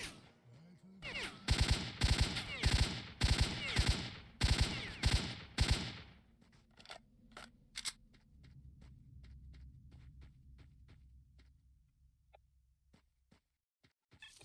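An AK assault rifle in S.T.A.L.K.E.R. Shadow of Chernobyl fires a loud, close string of sharp shots for about six seconds, followed by scattered single shots and a low engine-like rumble that fades out.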